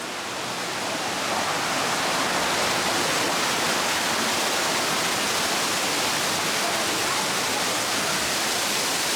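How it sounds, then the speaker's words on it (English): A waterfall and fountains at Epcot in Disney World pour out a dense, steady hiss and rush that swells in at the start and then holds loud and unbroken. "this area is particularly great if your kids love waterfalls and fountains like Riley does"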